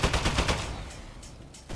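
Rapid bursts of automatic gunfire from a killer toilet in a video game, loud and dense at first, then thinning into scattered distant shots with brief gaps.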